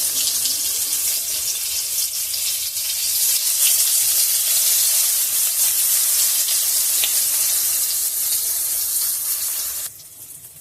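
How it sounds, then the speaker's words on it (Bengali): Eggplant slices fry in oil over a low gas flame, producing a steady, dense sizzling hiss close to the pan that continues for about ten seconds before easing slightly. "গ্যাসের ফ্লেমটা লোতে রেখে দিয়ে বেগুনগুলো ভাজতে হবে।"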